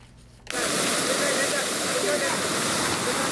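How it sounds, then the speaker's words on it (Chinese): Torrent of a swollen mountain stream in flood after a sudden rainstorm in the hills of Nantou, Taiwan, roaring as a loud, dense, continuous rush of water close by, starting abruptly after a quieter opening moment and holding steady. "南投山区溪水暴涨"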